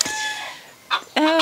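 Chickens cluck and squawk nearby in a few short bursts, loud and close, with brief gaps between calls.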